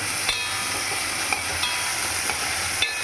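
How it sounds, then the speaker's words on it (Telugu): A spoon stirs wheat-flour onion dosa batter with carrot mixed in, making soft rhythmic scraping strokes about every half second over a steady background hiss. "ఇప్పుడు క్యారెట్ వేసేసుకున్నాము మొత్తం మిక్స్ చేసేసుకోవాలి"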